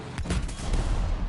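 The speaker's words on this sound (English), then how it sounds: "We are near an enemy tank, because he just fired" An enemy tank fires its cannon in the War Thunder video game. Deep, rumbling blasts with crackling gunfire-like bursts roll on for a moment with no talk.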